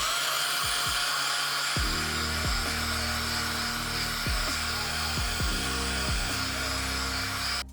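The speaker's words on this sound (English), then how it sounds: "as the sandpaper plugs up, kind of clogs up, you'll want to incorporate some soapy water into the sanding." An electric sander wet-sands a sun-faded, cracked plastic fender with 400-grit paper and soapy water, giving a steady close whine with a rough hiss and recurring short bursts as the pad presses and shifts.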